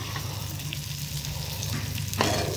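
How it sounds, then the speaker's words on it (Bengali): Potatoes, taro and eggplant are sautéed with spices in a pan, making a continuous close sizzle with a low steady hum beneath and a brief scrape near the end. "তো এই আলু, কচু, বেগুন আর সব রকম মশলা দিয়ে এখন কষানো হচ্ছে।"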